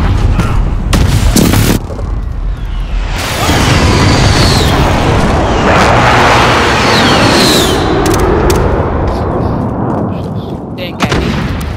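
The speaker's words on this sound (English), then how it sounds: "Enemy precision airstrike," An enemy precision airstrike lands in Call of Duty Modern Warfare on the Euphrates Bridge map, bringing loud, continuous booming blasts and crackling debris that fill the whole stretch, with sharp gunshots at the start and end.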